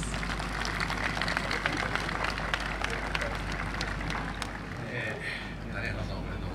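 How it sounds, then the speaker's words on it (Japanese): Applause from an audience at a golf tournament award ceremony, a dense steady wash of clapping that carries on throughout under crowd noise and some talk. "温かい拍手お願いします。"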